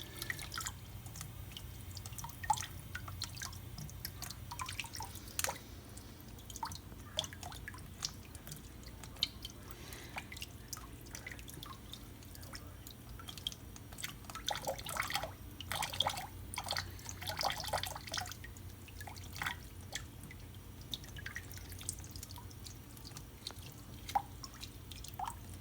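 Water trickles and drips steadily over a hard-boiled egg as its shell is peeled away, with soft wet squishing and light tapping from the shell throughout, close up and without talk.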